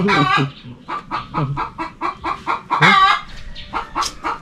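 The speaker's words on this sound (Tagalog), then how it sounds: "May manok pa." Several chickens cluck close by in quick, uneven bursts, with sharp squawks mixed in.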